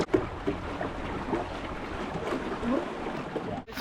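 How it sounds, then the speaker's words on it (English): A dinghy ride on the sea off Spain's coast, with steady motor and water rush, wind noise and a few splashes, close and continuous. "First dinghy ride in almost a year."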